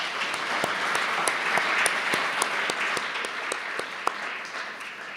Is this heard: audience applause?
yes